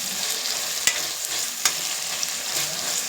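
Tomatoes frying in a pan for gongura mutton fry give a steady close sizzle, broken by a few sharp clicks of a stirring spoon against the pan. No voices are heard.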